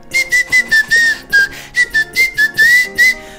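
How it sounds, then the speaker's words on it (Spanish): Someone whistles a lively tune in short repeated phrases, loud, clear and close, each note bending up or down, with brief gaps between the bursts and no talking. "debería hacer un vídeo enseñando a silbar de esa forma"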